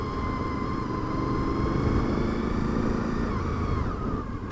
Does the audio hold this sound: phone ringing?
no